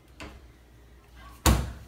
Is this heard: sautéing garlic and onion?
no